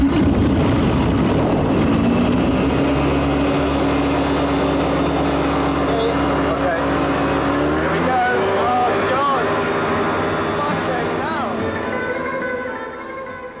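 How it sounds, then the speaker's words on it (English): Loud, droning engine of a microlight aircraft, a small open flying moped, running steadily close by before its pitch shifts and wavers as it revs and changes speed, with wind noise throughout. "a trip up in this terrifying flying moped"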